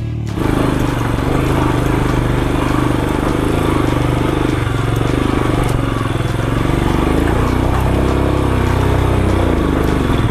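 A motorcycle on a trip from Kali Pokhari to Sandakphu runs its engine steadily and loudly up close for the whole stretch, with a constant rumbling drone.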